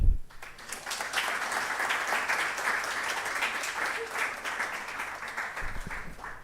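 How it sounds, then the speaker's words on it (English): Audience applause fills a closing ceremony hall, a sustained dense wash of many hands clapping at steady loudness for several seconds before tapering slightly at the end. "let's give him a round of applause"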